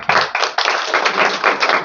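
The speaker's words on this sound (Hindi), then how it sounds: "एक बार खुशबू के लिए जोरदार तालियां" Loud, dense clapping from an audience at a political gathering, a steady close burst of many hands with rhythmic surges throughout.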